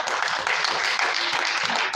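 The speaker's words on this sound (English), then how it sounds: "please clap for the awardees" An audience in a hall claps steadily and densely for awardees at a Rotary investiture, a brief, close wash of applause with no pauses.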